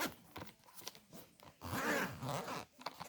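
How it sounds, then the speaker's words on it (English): The small zipper on a DJI Osmo 3 gimbal case is pulled open close up, giving a quiet stretch of scratchy zipping with a louder rasping run in the middle. "It has a little zipper."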